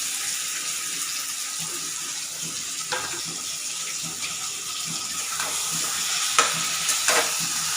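Spice-marinated goat meat tipped into a pan of already fried onions hisses in a loud, steady sizzle, with occasional stirring scrapes and clinks cutting through the continuous frying.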